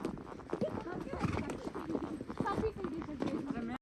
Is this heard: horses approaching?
yes